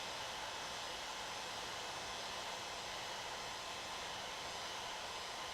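A hot air plastic welder blows a continuous, even, airy hiss that holds steady for the whole stretch with no breaks and no speech.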